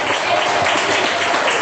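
Congregation applauding during a church sermon, a short burst of dense, even clapping from many hands, loud and close with no voices over it.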